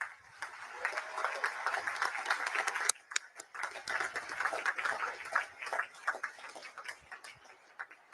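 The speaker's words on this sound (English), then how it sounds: "please join me in giving them a heartfelt round of applause" A crowd at a commissioning ceremony gives a round of applause that stays distant and fairly faint, a steady patter of many hands with a brief dip partway through before it picks up again.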